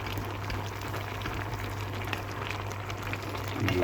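A simmering Tamil curry with curry leaves bubbling in a pot, a continuous close boiling and frying crackle with a low steady hum, ending with a light stir.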